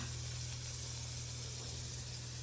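Onions sizzling on a hot griddle beside smashburgers, a steady close hiss with a constant low hum underneath, even and unbroken throughout, no voices.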